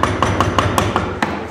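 A mallet strikes a chisel cutting a mortice lock hole in wood, with about eight evenly spaced, sharp, close knocks over a low background rumble.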